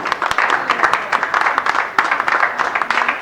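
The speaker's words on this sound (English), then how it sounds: "let's give a round of applause to both of them." Audience applause at a social gathering in Lagos, a loud, dense burst of many hands clapping close by, sustained with a brief dip in the middle and no voices over it.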